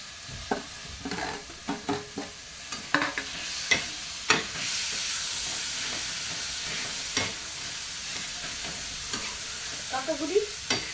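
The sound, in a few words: tomatoes added to frying onions for egg bhurji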